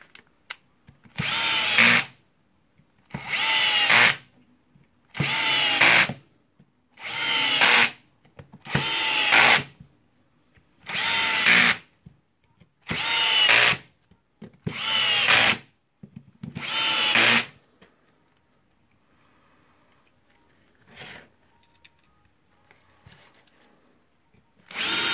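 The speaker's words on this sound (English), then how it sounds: "that was a Bosch 18 volts cordless drill." A Bosch GSR 18V Li cordless drill, just reassembled after armature commutator repair, runs in about ten short, evenly spaced bursts of close, loud whirring, then falls quiet apart from a few faint clicks.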